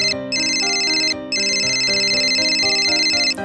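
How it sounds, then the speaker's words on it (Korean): A mobile phone rings with a bright melodic ringtone, two bursts of repeating chime notes separated by a brief pause, loud and close with no talk. "뭔 놈의 전화가 드럽게 많이 와"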